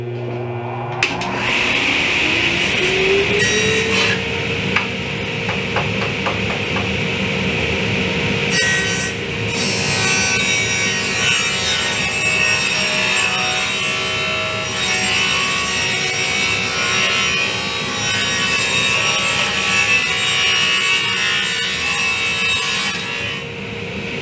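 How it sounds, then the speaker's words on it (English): A miter saw spins up and makes an angled cut through wood, a loud continuous whine and rasp that holds for a long stretch before easing. "So I will miter it on an angle this way."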